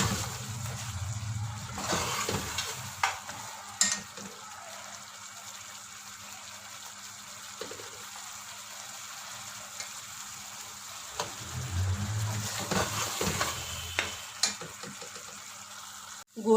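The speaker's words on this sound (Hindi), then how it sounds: "तब तक भूनना है जब तक गोश्त ऑयल ना छोड़ दे" Mutton frying in oil in a karahi, a steady low sizzle running throughout with occasional stirring clatters and a louder burst near the end; a voice talks over it at times.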